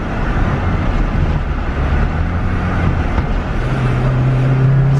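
A Toyota Starlet with a 4EFE engine accelerates without nitrous, heard from inside as a steady droning engine roar with wind buffeting, the pitch climbing near the end, no talking.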